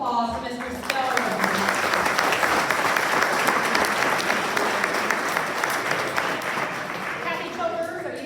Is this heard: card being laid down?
no